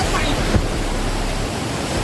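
Water at Kalu Waterfall rushes in a steady, broad roar close by, a dense unbroken wash of noise lasting throughout.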